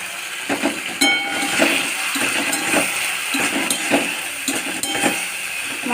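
Onions and spices sizzle steadily in a hot pan while a utensil scrapes and clinks against the metal in irregular stirring strokes, a continuous close frying hiss with no talk.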